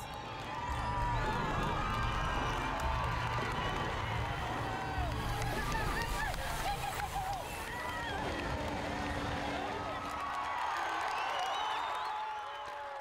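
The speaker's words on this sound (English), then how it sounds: "grouped again at the entrance of Guamagana before cheering supporters" Roadside supporters cheering at a cycling race in Rwanda, a continuous distant crowd roar with shouts and clapping, partly under a voice speaking.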